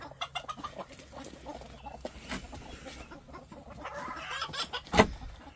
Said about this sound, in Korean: 이제 다른 닭들을 또 한번 보여드리겠습니다.